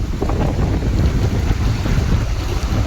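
Strong stormy wind roaring and buffeting a microphone on the road during a truck trip, a loud continuous rumbling gust noise with no talk.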